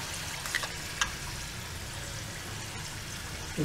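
Vegetable samosas frying gently in oil over moderate heat, a continuous soft bubbling sizzle with a couple of faint clicks, fairly quiet and steady, no speech.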